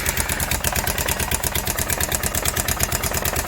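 Kawasaki Prairie 360 4x4 ATV engine running at a steady idle under repair, a close, loud, even rapid chugging with a regular pulse throughout and no voices.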